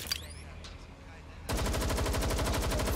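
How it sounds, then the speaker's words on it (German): Rapid automatic gunfire in Watch Dogs: Legion starts abruptly halfway through and keeps going as a dense, loud burst, after a quieter stretch with faint speech and game noise. "Was schießen die?"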